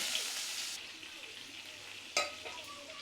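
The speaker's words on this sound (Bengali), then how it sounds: "বেগুনটা কিন্তু আমার প্রায় ভাজা হয়ে গিয়েছে" Eggplant sizzles steadily as it fries in hot oil, a bright crackling hiss with a sharp stir or clink partway through; no voices.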